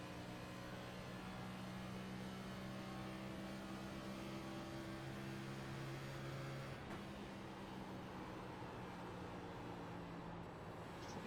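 A NASCAR race car engine in a Coke 600 racing video game drones steadily and fairly quietly, its tone holding level and then dropping and roughening about two-thirds through, with no voices.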